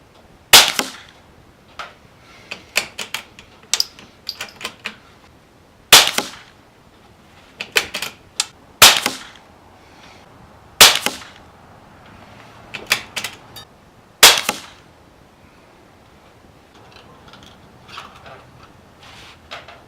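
Subsonic .22 rifle firing CCI Quiet ammunition outdoors: a series of sharp, fairly quiet cracks spaced a couple of seconds apart, each a brief snap with slight echo, about eight shots in all.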